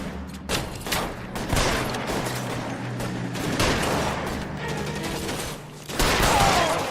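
Gunfire in the video game L.A. Noire, set during a shootout at Nicholson Electroplating, with dense fusillades of rapid shots that stay loud and continuous throughout and swell again near the end.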